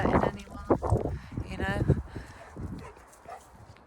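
Dogs romp and play outdoors, giving short yips and barks among scuffling movement, while a person talks over the activity nearby.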